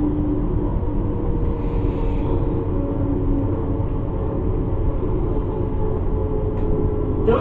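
Class 385 electric train, unit 385013, running from Glasgow Queen Street to Alloa, recorded from inside as a steady low rumble and hum that stays even and continuous throughout, with no talk.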